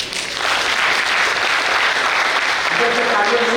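Audience applause fills the room at an office inauguration ceremony, loud, dense clapping that swells quickly and holds steady, with a voice speaking over it near the end.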